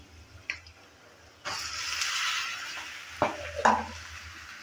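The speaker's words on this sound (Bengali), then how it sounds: "মসুর ডাল আর কাঁঠালটা দেওয়ার পর ভালো করে নেড়েচেড়ে নিচ্ছে।" Boiled lentils and jackfruit being stirred in a pan, a short hiss rising into a steady sizzle, with a few scrapes and clinks of a spoon against the pan, no speech.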